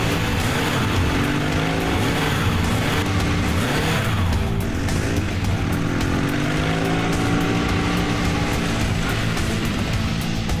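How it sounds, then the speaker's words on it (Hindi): A motorcycle engine revs hard during a chase on a road, its pitch rising and falling in loud, sustained sweeps with a continuous roaring drone and no talk. "ये तो बहुत अच्छी बाइक चला रहा है।"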